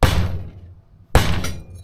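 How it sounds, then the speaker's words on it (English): Two sharp metallic taps from a metal hammer on a Triumph Stag Mk1 Stromberg carburettor part, a second apart, each ringing briefly before fading, close and loud with no talking. "I could use a metal hammer, I suppose, rather than a nylon hammer."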